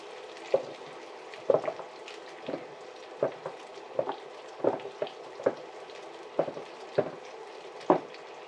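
Onions frying in a pan, with a soft continuous sizzle broken by regular scraping, stirring clicks that repeat about once a second.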